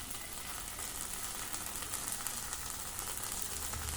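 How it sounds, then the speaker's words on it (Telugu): Bread masala mixture with tomato sauce frying in a kadai, giving a steady, even sizzle with soft hissing and faint crackles throughout and no voices. "ఈ మిక్చర్ అంతా ఇప్పుడు కడాయికి అంటుకోనట్టు బాగా ఫ్రై అవ్వాలి"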